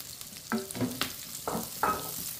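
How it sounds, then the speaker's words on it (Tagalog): Onions sautéing in a pan for pansit sotanghon, giving short bursts of sizzling and frying hiss with a few stirring scrapes, close and fairly quiet, without talk. "Gisa-gisahin lang natin para lumabas din yung aroma ng sibuyas."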